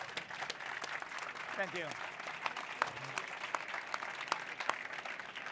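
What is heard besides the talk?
audience applause for conference panelists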